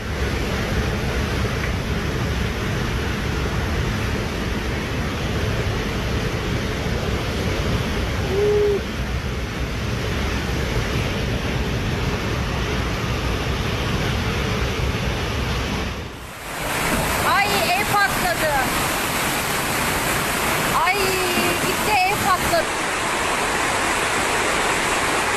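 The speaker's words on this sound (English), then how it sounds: "The dramatic waves crashing beneath the cliff at Mucugê Waterfall in Brazil" Waves crash beneath a cliff at Mucugê Waterfall in Brazil, a loud, continuous roar of churning water that briefly dips partway through and then surges back at full strength.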